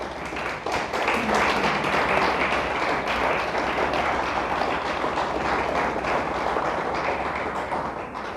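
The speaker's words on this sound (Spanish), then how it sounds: "Le damos un fuerte aplauso a Dios." Loud, sustained applause from a church congregation, dense clapping that fills the whole stretch at steady strength without pause.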